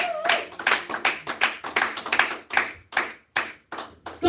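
Church congregation clapping to acclaim the Lord, a dense run of hand claps in an irregular rhythm, crowded and fairly close, with no talk over it.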